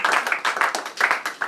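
A crowd at a dowry ceremony claps in quick, uneven rhythm, a close burst of hand claps that pulses steadily with no talking.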